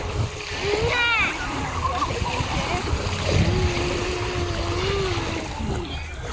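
People bathing at a beach splash in the water amid a steady wash of waves and surf, with voices and a bird calling in the background.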